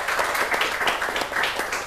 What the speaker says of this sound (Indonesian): Tepuk tangan boleh untuk kita semuanya.